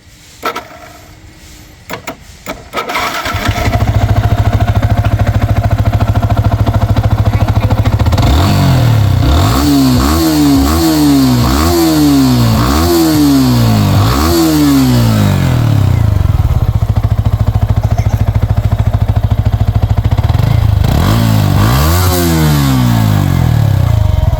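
A blue 2020 Indonesian-model Yamaha R15 version 3 motorcycle starts up and idles, then its engine is revved repeatedly in sharp rising bursts, with another pair of revs near the end, loud and close.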